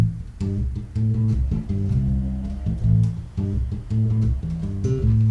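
Bass guitar groove on the minor pentatonic scale, several bars of close, loud, rhythmic plucked low notes played alone with a steady repeating pattern.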